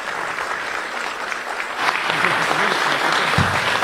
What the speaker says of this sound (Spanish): el doctor Alejandro Yamatei, a quien recibimos con un fuerte aplauso.